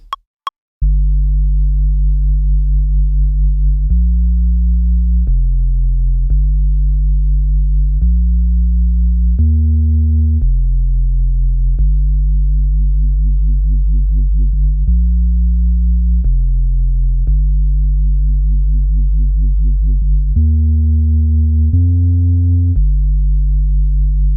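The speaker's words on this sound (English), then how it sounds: "the ARP's cool, isn't it? That's from a Contact patch." Kontakt synth arpeggio in a rolling drum and bass track, a steady run of sustained tonal notes that step between pitches over a deep sub bass, loud and continuous with no talking.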